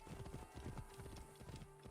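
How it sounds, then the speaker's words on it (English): A horse galloping across open terrain in Assassin's Creed Origins, fast rhythmic hoof beats drumming steadily and fairly close throughout, with no talking. "since we are utilizing a horse, we obviously have that enhanced mobility, which is allowing us to traverse this landscape at such high speeds."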